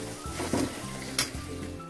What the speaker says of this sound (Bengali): আমি এতে অল্প অল্প জল দিয়ে নাড়ছি, যতক্ষণ এর থেকে তেল বেরোচ্ছে ততক্ষণ আমি এটাকে আরও নাড়তে থাকবো